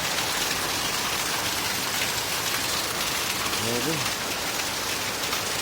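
Heavy rain from Typhoon Carina pours steadily in Tarlac, a loud dense hiss that fills the whole clip, with one brief spoken word partway through.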